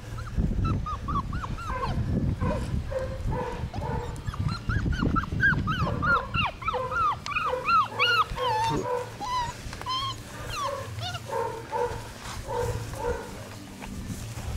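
Beagle puppies yipping, barking and whimpering in a busy overlapping chorus, with rising howl-like cries layered over a low rumbling background, close and continuous throughout.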